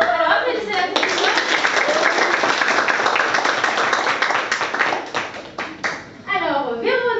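A theatre audience at a contestant competition breaks into dense, sustained applause that thins out and fades, followed by a person speaking.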